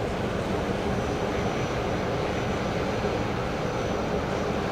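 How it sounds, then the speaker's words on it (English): A Qantas Boeing 737 moving at Brisbane Airport at night gives a steady, fairly faint broadband engine roar heard from a distance, continuous throughout without talk. "we've got a Qantas 73 on the move"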